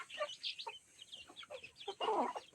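Native chickens kept at a bahay kubo coop cluck in a steady run of short, close calls, ending with a louder, fuller squawk.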